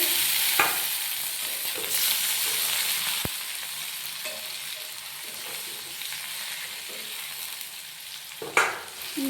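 Garlic paste and onions frying in a pan give a steady close sizzle, broken by occasional stirring scrapes and a couple of sharper knocks against the pan.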